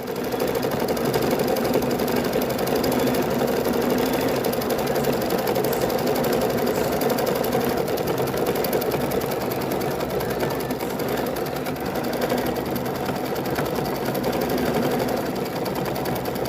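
A computerized embroidery machine stitches quilting in the hoop, running steadily and loudly as a fast, continuous mechanical chatter with no pauses throughout.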